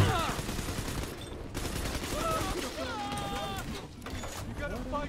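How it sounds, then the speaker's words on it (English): A minigun firing in BioShock 2 Remastered, a continuous rattling spray of rapid shots, with someone talking over the gunfire and harmonic voices and game sounds mixed in. "Let's switch up to the minigun. Damage is immense."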